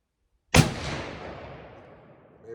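A single loud rifle shot from a Winchester Model 670 in .300 Win. Mag., fired while sighting in for hunting, with a sharp close crack followed by a long rolling echo that fades over about two seconds.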